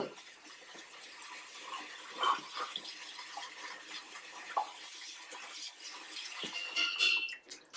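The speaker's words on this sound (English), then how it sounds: "Rinse the soba well in cold running water." Cold water runs steadily from a tap over soba noodles in a colander, a continuous splashing hiss with a few brighter drips and sloshes, close by and without talk.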